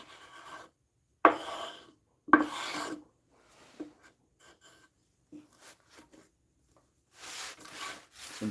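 A blade is wet-sharpened on a whetstone in quiet, separate strokes. Each is a soft scraping rasp, with a few sharper swipes and long silent gaps between them.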